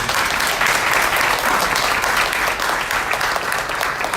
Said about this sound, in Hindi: ताली बजा ले अभी.